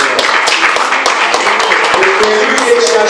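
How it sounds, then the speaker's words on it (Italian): Audience applause in an Italian cultural gathering, dense steady clapping from many hands throughout, fairly close and loud. "a cui vorrei dedicare il vostro primo applauso"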